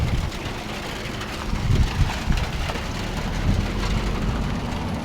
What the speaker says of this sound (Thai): ฝนตกเลยเนาะ